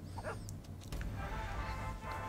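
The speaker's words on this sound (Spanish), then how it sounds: "qué bonito perro" A small pet dog barks and yips a few times in Fallout Shelter, short sharp calls near the start over a steady hum of game background sound.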